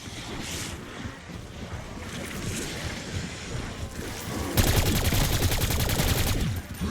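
Gunfire in Citadelle Des Morts, with scattered shots over a windy, rumbling backdrop, then a sustained stretch of rapid automatic fire near the end, fairly loud and close.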